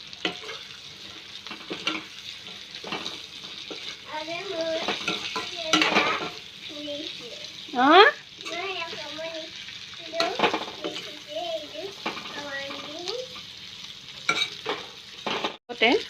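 Taro stolons fry in oil in a pan on a gas stove, with a steady close sizzle and repeated stirring scrapes and clatters throughout. A person talks over the cooking sounds.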